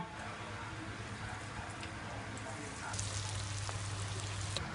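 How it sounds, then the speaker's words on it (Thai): Oil sizzles and crackles steadily as chicken fries in a pan, with a low hum underneath and sharper pops growing louder toward the end. "ทอดไก่ก่อน"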